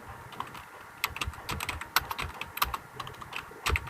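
Keys clatter on a computer keyboard while Python code is typed, a quick, irregular run of close, crisp clicks with a few louder strikes and no voices.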